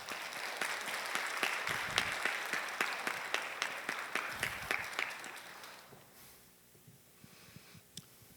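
A church congregation at a Sunday service claps to welcome a missionary coming forward, a lively burst of many hands with sharp individual claps that fades out toward the end, leaving scattered final claps.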